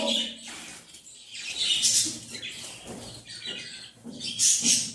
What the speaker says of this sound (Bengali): পাখিটা দেখো ফুল অ্যাডাল্ট পাখি আর পুরো ওকে আছে